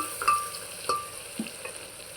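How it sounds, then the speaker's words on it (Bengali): Chopped onion frying in hot oil with whole spices inside a pressure cooker for pulao, a soft continuous sizzle with a few light stirring clinks and taps, close and steady, no voices. "পেঁয়াজ কুচি দিয়ে দিলাম"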